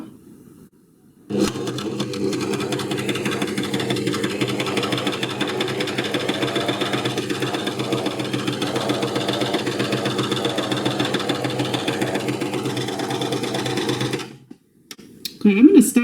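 A sewing machine with a binder attachment stitches on a wide needle setting, starting abruptly into a steady, fast mechanical hum and rattle that runs continuously before stopping, followed by faint handling noise.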